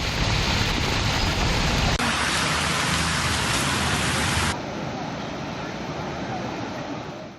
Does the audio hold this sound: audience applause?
no